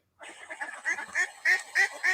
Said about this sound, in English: So I'm playing ducks in the back.